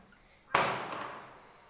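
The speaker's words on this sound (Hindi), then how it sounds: "बगल में सब बच्चे पटाखा छोड़ रहे हैं उसी का साउंड आ रहा है" A single sharp bang from a firecracker set off nearby by children during Diwali, with a short echoing tail that fades quickly.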